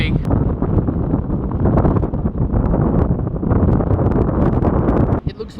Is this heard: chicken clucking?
no